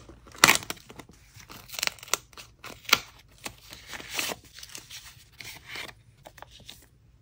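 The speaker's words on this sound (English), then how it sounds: "I'm trying not to rip these cards because I always keep the little decorative cards" Paper crinkles, rustles and tears softly as small photo cards are slid out of a little mail envelope, in a close series of irregular handling sounds with no talking.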